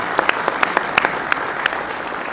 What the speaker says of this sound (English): So give those folks a round of applause.